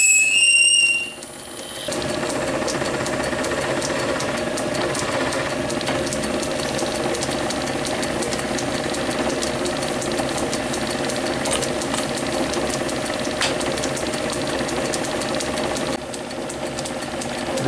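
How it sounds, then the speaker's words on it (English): A cast piston turning in a lathe while a sharp quarter-inch reamer with cutting oil finishes its bore. The result is a steady, continuous mechanical whir with light ticking, heard close and alone for most of the stretch. "Going to finish it off with a bit of cutting oil and a nice sharp quarter inch ream."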